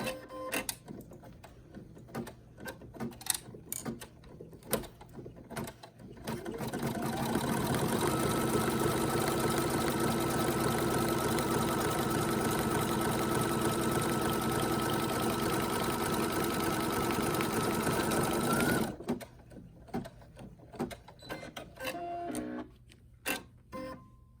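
A Brother NQ1700E or PE800 embroidery machine stitches an in-the-hoop ID wallet, a steady loud mechanical whir running alone for about thirteen seconds between quieter handling noises.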